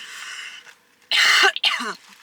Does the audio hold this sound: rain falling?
no